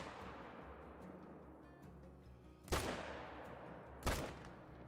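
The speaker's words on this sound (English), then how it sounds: "we might as well just go ahead and shoot some" Two sharp rifle gunshots while hunting in theHunter: Call of the Wild at Layton Lake, each a loud crack with a decaying tail, spaced about a second and a half apart over a low outdoor ambience.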